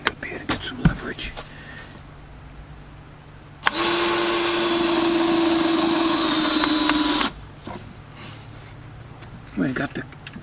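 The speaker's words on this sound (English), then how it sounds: "I got the clutch set at 13 for driving screws." A power drill, clutch set at 13, drives screws, whirring steadily for about three and a half seconds, a loud continuous motor drone, with brief clattering and handling noises before and after.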